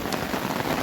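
Heavy, steady rain pours down in the Konkan region during an overnight downpour that has left a bus stranded, forming a dense, continuous hiss with no pauses.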